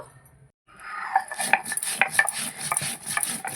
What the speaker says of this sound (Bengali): জিরেটা আমি বেটে নেবো